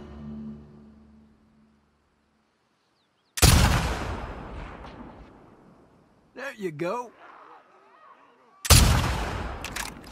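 Two loud rifle shots in The Last of Us Part II, about five seconds apart, each a sharp crack followed by a long echoing decay, with a short spoken line between them.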